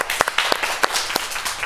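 Players clap and cheer for the first kicks of Porto at a football event, a brief burst of close, uneven clapping with several sharp claps over about two seconds.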